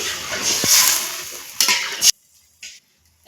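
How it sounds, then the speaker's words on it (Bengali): A thin fish curry broth bubbling in a pot gives a steady, close hiss and simmer for about two seconds, then cuts off abruptly, leaving near silence and one faint clink. "এখন এই ঝোলটা ফুটিয়ে নেব ঝোলটা ফুটে গেছে"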